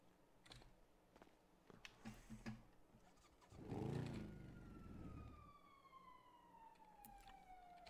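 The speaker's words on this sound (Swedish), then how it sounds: "Jag älskar när ambulansen låter överallt" An ambulance siren in an open-world roleplay video game, rising and sweeping as a fairly clear tone that runs through the latter half alongside a rumbling engine and scattered clicks.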